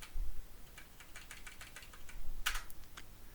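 Rapid, light clicking of keys on a computer keyboard, close and steady, with a slightly louder clustered keystroke near the end and no talking.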